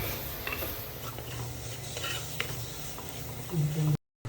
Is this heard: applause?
no